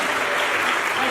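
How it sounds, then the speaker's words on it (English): Audience applause for a festival performer, a dense, loud, steady wash of many hands clapping at close range for just over a second, with no voices standing out. "give Patricia a round of applause for helping out doing that"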